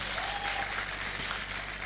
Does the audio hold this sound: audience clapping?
yes